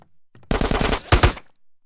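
A minigun in GTA San Andreas fires one loud, close burst of very rapid rattling shots lasting about a second. A heavier pair of blasts closes the burst before brief quiet.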